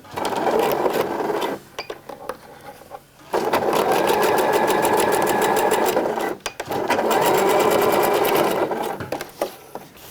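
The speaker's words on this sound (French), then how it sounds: "on va venir coudre ici à la machine au point droit" A sewing machine runs a straight stitch on swimsuit fabric in two long, loud, rapid bursts of rhythmic needle chatter, separated by short pauses with small handling clicks, and no talk.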